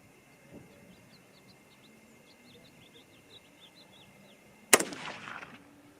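A single sharp rifle shot firing a 100-grain ELD bullet from a bolt-action rifle outdoors, loud and abrupt with a trailing echo, following a quiet stretch with faint birdsong.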